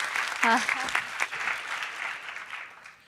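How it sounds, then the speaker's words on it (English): Applause from an audience, steady and fairly loud, with a voice briefly rising over it near the start before the clapping slowly fades. "you deserve all the rounds of applause in the world"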